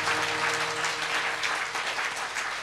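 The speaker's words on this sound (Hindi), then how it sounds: "यदि आपकी बात मेरी समर्थन करते हैं तो जोरदार ताली से व्यासपीठ को प्रणाम करें।" Large audience at a spiritual discourse giving loud, sustained applause toward the speaker's seat, a dense even wash of clapping throughout with a faint steady tone underneath.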